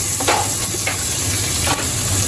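Onion and garlic hit a hot pan and sizzle with a steady, close, continuous hiss, with a few brief scraping stirs and no talking.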